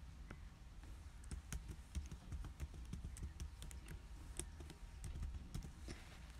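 Keys tapped on a keyboard while a new password is entered, a steady run of light, quick clicks at close range with no voice.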